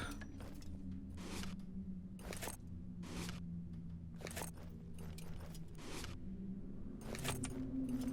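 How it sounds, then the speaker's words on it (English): In a video game, a ring of keys jangles in repeated short metallic bursts, bright and close, over a steady low game hum. "Alton Bunch's keys."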